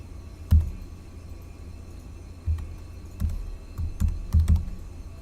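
A package name, Microsoft.ML, is typed on a computer keyboard, giving a handful of soft, uneven keystrokes close by over a low, steady room hum.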